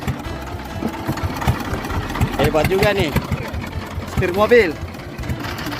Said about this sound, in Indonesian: mesin kapal mau diselinggere